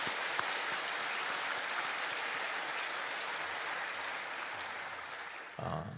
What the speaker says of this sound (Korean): 우리 꽃꽂이 선교회를 위해서 여러분 격려의 박수 한번 크게 해주시기 바랍니다